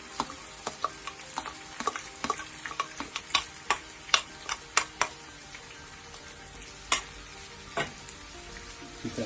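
Onions brown in a pan for an aloe vera omelette, crackling and sizzling steadily close by while a spatula taps and scrapes in an uneven run of clicks.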